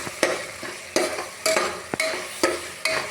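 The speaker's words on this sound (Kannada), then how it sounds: "ಇದನ್ನು ಚೆನ್ನಾಗಿ ಫ್ರೈ ಮಾಡ್ಕೊಳ್ಳಿ" Chicken curry frying and being stirred in a pan: a steady sizzle broken by about six sharp scraping strokes of a spoon at a regular pace, close and fairly loud, with no voices.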